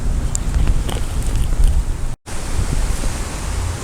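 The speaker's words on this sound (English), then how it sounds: "the wind is still blowing hard" Strong wind blows hard across the microphone outdoors at a deer hunting sit, a continuous rough buffeting roar with gusting swells and one momentary dropout.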